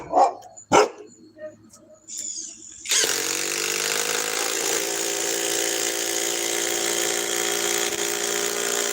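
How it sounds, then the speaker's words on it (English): A dog named Cole barks a few sharp times near the start, followed by a steady loud mechanical whine, like a motor or power tool, running continuously to the end. "See what this dog is barking"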